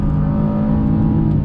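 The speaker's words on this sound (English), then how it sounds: "going up this hill, back on throttle. That V6 easily pulls us up." A 2021 GMC Canyon AT4's V6 engine pulls the pickup up a hill under throttle, heard from inside as a loud, steady drone and whir without any talk.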